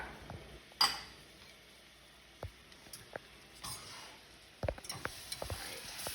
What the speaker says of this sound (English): So we're going to melt this down and we're going to stir it constantly until it comes to a boil.